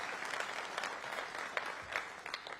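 Audience at a Conservative party conference speech gives a round of applause: dense, even clapping from a large hall crowd, heard at moderate distance and fairly faint, with no clear talk over it.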